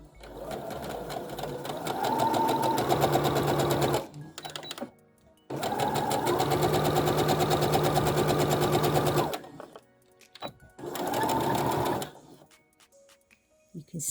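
Sewing machine stitching fabric in three loud, steady runs of fast rhythmic clatter separated by short pauses, with faint handling sounds in the gaps.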